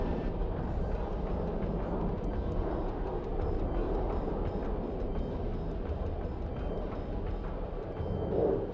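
Jump jet airstrike in the Broken Arrow war game: a loud, continuous jet roar with heavy rumble holds steady throughout, swelling slightly near the end as the aircraft passes overhead.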